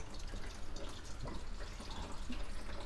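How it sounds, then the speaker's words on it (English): Coolant drains out of an MGB heater with the heater valve open, a steady liquid trickle with light dripping that runs continuously at moderate level and has no talking. "So I'll have to wait another minute for that to finish draining."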